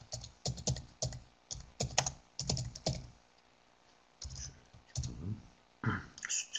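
Quick bursts of typing on a computer keyboard, close and crisp, with clustered key clicks separated by brief pauses.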